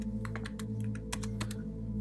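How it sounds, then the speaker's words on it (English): Rapid computer keyboard typing while IP addresses are entered into a Palo Alto Networks firewall rule: a quick, uneven run of sharp clicks close to the mic over a steady low hum, with no talking. "just start typing IP addresses in there."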